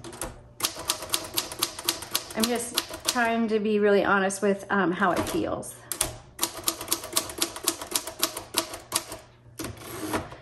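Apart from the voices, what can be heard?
typing on a 1954 Royal HH manual typewriter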